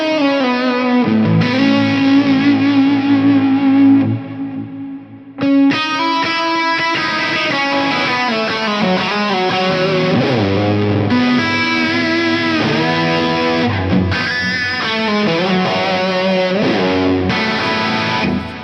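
Electric guitar through a Mesa Mark IIc+ amp with a lush, washy Plex reverb plays sustained chords and arpeggiated notes, with a brief drop near the start before it swells back in, full and continuous.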